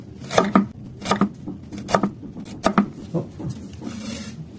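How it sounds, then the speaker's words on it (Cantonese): Knife slicing fresh ginger on a cutting board, a steady series of sharp, close chops in quick pairs, then several softer cuts, with no talking. "薑咧就切片"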